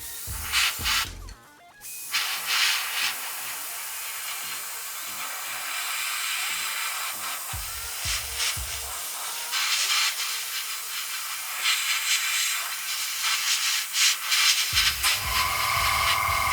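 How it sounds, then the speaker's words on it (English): Airbrush hissing out thin paint onto a 1:48 Eduard Spitfire Mk XVI Bubble Top model, a steady close airy spray running nearly throughout with brief pauses, including a short gap near the start. "Just testing the airbrush again"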